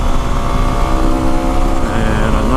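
A Yamaha WR250R motorcycle climbs a mountain road in the Santa Cruz Mountains, its engine droning loud and steady with a rising pitch near the end, heavy wind rumble underneath and no talking.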